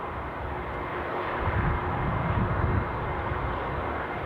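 An Emirates airliner at Newcastle International Airport roars steadily in windy conditions, a broad, loud engine rumble that swells slightly midway, with wind noise blended in.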